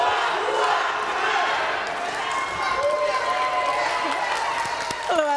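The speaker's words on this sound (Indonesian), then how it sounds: "Saya pingin dengar yel-yel dulu dari kedua pendukung sedikit saja" Supporters at a Jakarta campaign rally evening shout yel-yel cheers together, a loud continuous crowd roar with voices rising and falling, plus a few whistles near the end.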